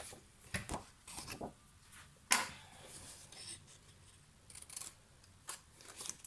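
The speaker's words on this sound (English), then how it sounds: "Right, so let me trim this up slightly." Paper being trimmed for a handmade card: a series of quiet snips and cutting clicks, one sharper cut in the middle, close up with soft handling rustles between them.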